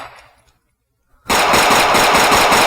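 Rapid gunfire from a Whitney Wolverine low-caliber pistol in Fallout 4 erupts suddenly after a quiet pause, a loud, dense string of sharp, firecracker-like shots that continues without a break.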